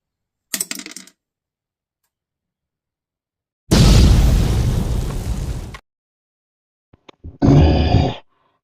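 A toy grenade explosion in a plastic army figure battle. A sharp pop is followed by a loud, two-second booming burst, then a short crackling blast, with silent gaps between them.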